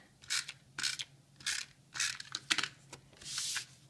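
A snail adhesive tape runner rolls across card in short repeated strokes: about eight quick, close ratcheting, clicky bursts with brief pauses between them, and no voices.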